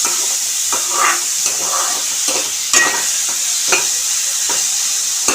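Sliced onions and green chillies fry in hot oil for an ivy gourd curry, giving a steady, close hiss broken by occasional scraping stirs, with no one speaking.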